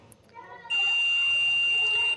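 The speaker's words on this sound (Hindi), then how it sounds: "ये दोनों साइड से हमको बीप की आवाज़ दे रहा है" A multimeter on continuity mode tests a diode in a 17-watt LED bulb under repair, giving one steady, loud high-pitched beep that holds for about a second and a half after a short quieter lead-in.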